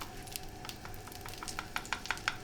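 Flour is stirred into melted butter in a pan, giving a quiet, close sizzle with a run of light crackles and spoon scrapes that grow sharper near the end, with no talking.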